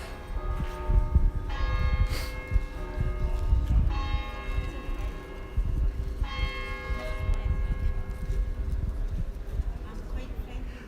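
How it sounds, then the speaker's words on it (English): Church bells ring repeatedly on a street in Edinburgh, their strikes coming at roughly two-second intervals amid steady outdoor crowd and street noise. "But the bells are going off."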